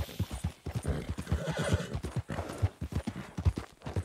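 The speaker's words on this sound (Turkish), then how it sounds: "Bizimki de yarış atı ya." Horse hooves clip-clop in a steady, close rhythm with neighing and whinnying from a racehorse in Red Dead Redemption 2, loud and continuous with no talk over it.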